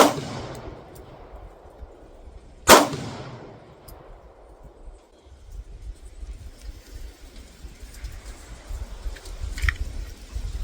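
A single sharp, loud report rings out from a Kel-Tec P15 9x19mm pistol and decays quickly, surrounded by a low, rumbling background with faint clicks and no speech.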